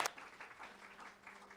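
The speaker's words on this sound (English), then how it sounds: "So let's give her another round of applause." Applause from a congregation at a live Sunday service, a soft, steady patter of many hands clapping at modest volume over a faint background hum.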